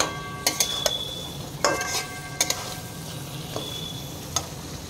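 Potato chunks fry in hot spiced oil, giving a soft continuous sizzle broken by sharp scrapes and clinks as a spoon stirs them around the pan, several stirs spread across the moment.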